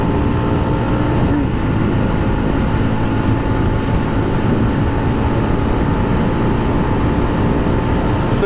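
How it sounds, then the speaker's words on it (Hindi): A Yezdi Roadster motorcycle at full acceleration in sixth gear, its engine and wind roar steady and loud throughout, with a faint whine running underneath and no pauses. "सो इस वक्त हम 6 गियर के अंदर है, फुल एक्सेलरेशन पर।"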